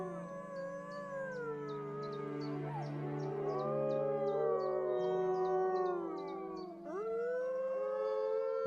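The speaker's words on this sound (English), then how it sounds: "This is a defensive howl." A captive wolf pack gives a defensive howl, several overlapping rising and falling voices sustained near and loud throughout, with sharp yips and barks layered on top.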